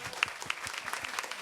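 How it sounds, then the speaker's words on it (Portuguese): An audience at a labour committee session on health plans claps in a brief, fairly quiet burst, with uneven individual claps standing out from the group. "eu peço para vocês uma salva de palmas"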